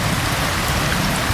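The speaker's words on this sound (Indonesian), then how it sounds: "mungkin si Dewi kedinginan karena memang cuacanya dari tadi hujan terus ya" Steady, dense rain falling, a constant close hiss of drops on surfaces with no pauses and no voices.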